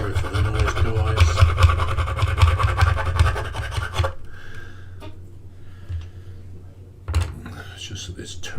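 Rasping strokes of a file on a Warhammer 40K Castigator tank model turret, a rapid run of scratchy rubbing close up followed by quieter sporadic scrapes, with speech in the background.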